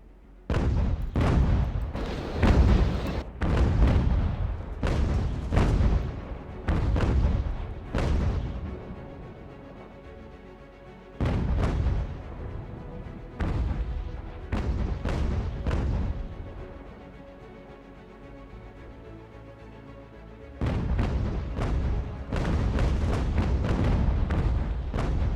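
Ship cannons fire in a naval battle in the game UGAR, a series of heavy booming volleys, each a loud burst with a rumbling tail, separated by brief quiet gaps.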